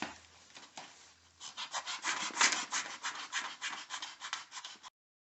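Sandpaper rubbing back and forth over curb-rashed, scratched car wheel, a close, steady run of rasping strokes after a quieter start.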